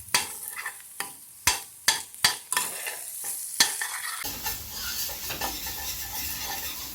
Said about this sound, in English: Okay, let's give this a good mix.